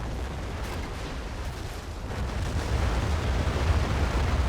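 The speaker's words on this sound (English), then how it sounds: "Complete bombardment." Heavy artillery bombardment from a US battleship offshore in a Cold War strategy game, a steady rumbling roar of distant blasts that merge into one. It swells slightly toward the end, with no speech.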